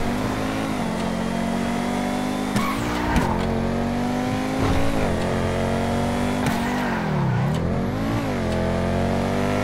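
Loud, continuous car engine revving and accelerating with shifting pitch and brief tire squeals, a custom exhaust in GTA 5 Online, alone and close throughout.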